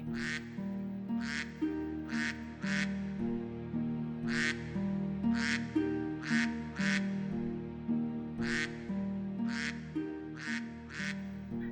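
Ducks quack in repeated bursts of two to four loud calls, spaced across the stretch over a steady low musical bed.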